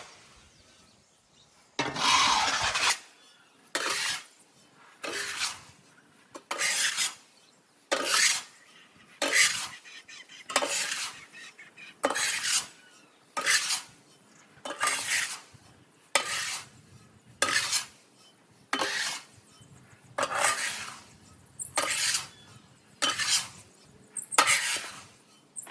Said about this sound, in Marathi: मित्रांनो, खत मिक्स करून झालेलं आहे व्यवस्थित.